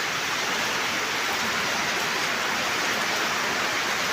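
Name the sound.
heavy rain pouring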